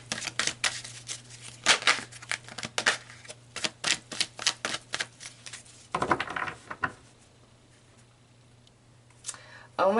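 Tarot cards shuffled and pulled close up: a quick run of sharp riffling clicks and snaps in uneven bursts, then a pause and a short flurry of card handling, all over a low steady hum.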